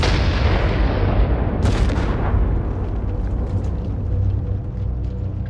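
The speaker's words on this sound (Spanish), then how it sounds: "escuché un sonido estallando en la distancia" A distant muffled explosion rolls as a deep, sustained rumble under a broad roar, with a brief crackling burst partway through before the boom fades into a low, steady rumble.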